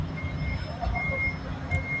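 A truck's reversing alarm beeps steadily while trucks load onto a ferry, set against a low engine rumble and background voices.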